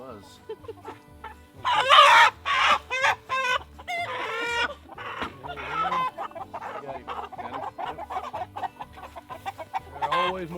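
Roosters and chickens on a small farm, heard close: loud crowing bursts and busy clucking overlapping, with a steady low hum beneath and occasional background talk.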